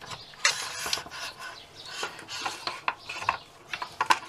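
An air cylinder is unscrewed from a Hatsan Gladius air rifle, making close, quiet metallic scraping and grinding turns with small clicks and rubbing in short irregular bursts.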